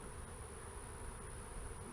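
Stressed, defensive honey bees at a Florida hive troubled by hive beetles buzz in a faint, continuous drone with a steady high whine above, no voices.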